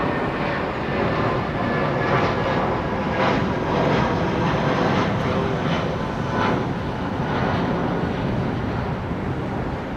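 An aircraft on the runway at London Heathrow Airport produces a steady, broad engine roar throughout, distant but loud and unbroken, with no other clear sounds.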